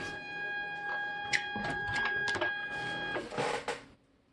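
A Fargo HDP card printer runs its alignment self test, giving off steady mechanical whirring with a high electronic whine, rapid ticking and a few sharper clunks before stopping abruptly.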